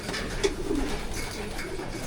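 Soft pigeon coos murmur from nearby in a breeding loft over a faint background hiss, low and gentle with no speech.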